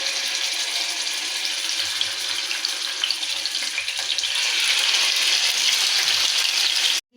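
Marinated chicken frying in hot oil in a pan on a stove, a steady loud hiss and crackle that runs unbroken and up close before cutting off abruptly at the end.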